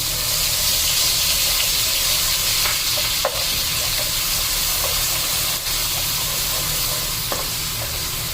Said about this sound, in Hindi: अब अदरक लहसुन का पेस्ट डाल देंगे, इसको भी थोड़ा सा भून लेंगे